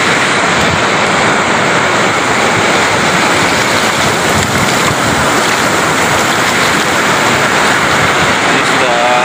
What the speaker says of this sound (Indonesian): Ombak sangat besar sekali ya.